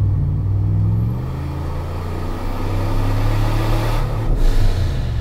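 A car engine runs steadily at part throttle during MAF tuning, a loud close droning hum with deep low-pitched harmonics that swell slightly as the revs shift, with no talking.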